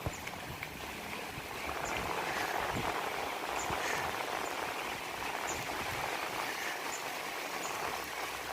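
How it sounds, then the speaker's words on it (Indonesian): Steady rain falls outdoors over an old residential neighborhood beside Manggarai train station, a dense even hiss with scattered drips and patters, close and continuous, with no voices. "hujan."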